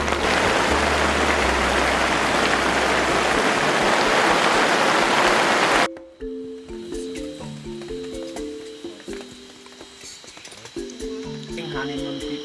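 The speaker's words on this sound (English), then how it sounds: "It didn't just rain, but it poured that night." Heavy rain pours down at night in the Bukit Lawang jungle of Sumatra, a loud, dense, continuous hiss for about six seconds before cutting abruptly to quieter music.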